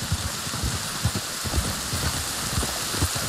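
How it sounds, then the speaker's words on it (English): Rain falls continuously as a steady hiss, with soft low thumps scattered underneath, in the video game Red Dead Redemption 2. "You were right about the damn rain."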